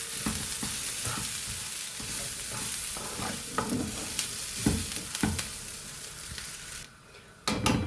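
Chicken masala with coconut, cooked Kerala style, sizzles steadily in a pan while a spoon scrapes and stirs in repeated strokes, close and fairly loud, with a brief dip near the end before the frying picks up again.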